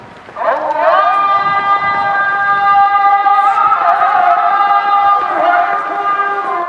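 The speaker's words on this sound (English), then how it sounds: "Listen carefully to the first azan, coming from the Sultan Ahmet Mosque." Azan call to prayer from the minarets of the Sultan Ahmet Mosque in Istanbul, one long melodic voice holding and bending sustained notes, echoing and steady throughout.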